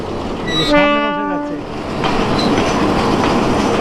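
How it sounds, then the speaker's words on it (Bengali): A passing local train sounds its horn in a loud bending blast, followed by the steady clatter and rumble of carriages rolling by nearby at a station. "এটা একটা লোকাল ট্রেন"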